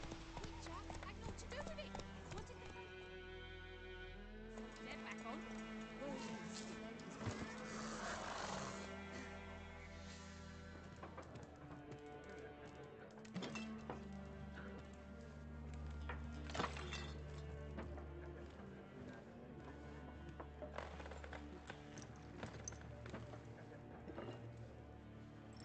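Roach, Geralt's horse in The Witcher 3, gallops with steady in-game hoofbeats under a music bed, while voices talk over the hooves.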